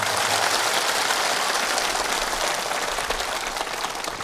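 Dense, steady applause from a large crowd at a motivational speech, a continuous wash of many hands clapping at once, loud and unbroken with no voices above it.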